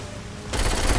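Saints Row IV video-game gunfire, a dense loud burst of rapid shots that cuts in halfway through the short moment.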